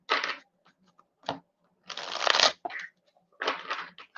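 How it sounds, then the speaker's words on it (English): Cards are shuffled in several short riffling bursts with quiet pauses between them, close and crisp with no talking. "I'm going to start to shuffle for you"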